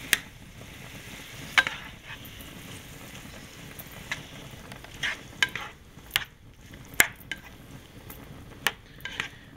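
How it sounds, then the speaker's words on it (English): Beef and broccoli cook in a pan with a low, constant sizzle while a spoon stirs and scrapes, and sharp clinks of metal against the pan recur irregularly and close by, with no talking. "give that a good little stir"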